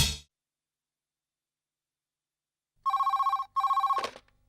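A telephone rings in two loud, evenly pulsed electronic bursts after a long silence, followed by the click of the handset being picked up, in a Tamil TV serial scene.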